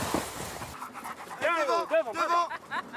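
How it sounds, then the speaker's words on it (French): Nordic sled dogs pulling a sledge through snow at a ski station at night, with quick breathy panting and a few whimpers close by, following a brief burst of noise at the start. "Ce n'est pas le Père Noël et ses rennes, mais Paul et ses chiens nordiques"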